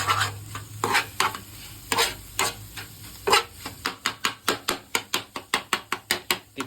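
A spoon stirs ghee fried rice sizzling in a pan, at first with uneven scraping strokes and then with a fast, regular run of rhythmic scrapes and knocks, loud and close over a constant sizzle.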